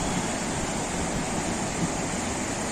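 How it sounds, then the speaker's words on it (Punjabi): Floodwater pours through the open Sutlej floodgates at Ropar Headworks in the rain, a dense, unbroken roar of rushing water that stays loud and even throughout. "ਦੇਖੋ ਕਿਸ ਤਰ੍ਹਾਂ ਪਾਣੀ ਬੇਸ਼ੁਮਾਰ ਆ ਰਿਹਾ ਹੈ"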